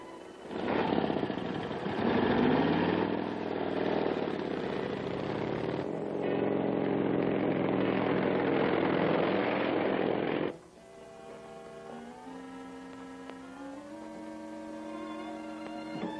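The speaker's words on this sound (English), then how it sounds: "Sounds like a motorcycle coming." An approaching motorcycle's loud, rough engine roars steadily for about ten seconds, then cuts off abruptly, leaving a quieter sustained tonal hum.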